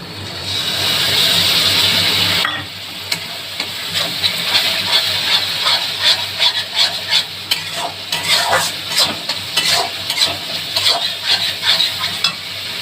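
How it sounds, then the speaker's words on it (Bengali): Sour yogurt hits a hot pan of fried spice paste, a loud hissing sizzle that settles into rhythmic stirring scrapes and bubbling fry, with no voices. "তো আমি এখন টক দইটা দিয়ে দিচ্ছি।"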